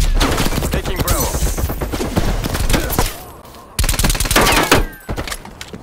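Automatic gunfire from a silenced Milano submachine gun in Call of Duty Cold War, rapid loud bursts packed into dense fusillades with short gaps, mixed with other game effects.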